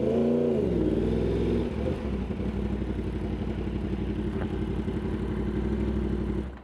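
A Yamaha R1 motorcycle engine runs steadily while riding, a loud, close, continuous drone with a pitch dip early on, then an even pulsing hum that cuts off at the end.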